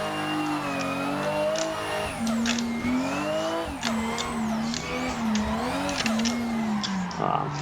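A Toyota Supra engine pulls hard and close through the gears, its pitch climbing steadily, then dropping sharply at each shift before rising again.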